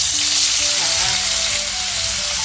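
Fish pieces rubbed with salt and turmeric frying in hot oil, a steady close hiss and crackle running throughout with a faint tonal hum underneath.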